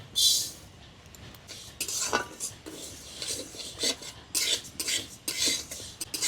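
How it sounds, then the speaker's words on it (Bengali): Mung dal dry roasting in a dry kadai, with intermittent scraping and rattling bursts as the grains are moved around, fairly faint and alone. "শুকনো কড়াই মুগ ডালগুলো ভেজে নেব"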